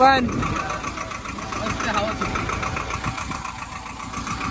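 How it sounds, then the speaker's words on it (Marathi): A steady tractor engine drone runs throughout at moderate loudness, with a brief voice at the very start. "आता थोडा वेळ ट्रॅक्टर चालून घरी जाणार आहे."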